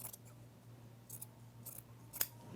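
Scissors cut straight across shirt fabric in a few quiet, crisp snips spaced over a couple of seconds, with the last snip the sharpest, faint and close with no talk.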